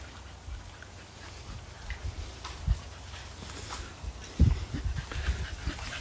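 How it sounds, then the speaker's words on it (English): Soft, close panting from a pet dog that is no longer as agile as it used to be, with a few faint whimpers and brief rustles over a quiet indoor background. "That's me dog, Lola."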